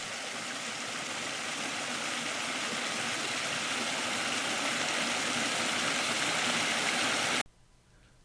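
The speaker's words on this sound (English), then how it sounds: "listen to the water go over the rocks" Steady rushing of water tumbling over rocks at a small creek waterfall, close and continuous, then cutting off abruptly near the end.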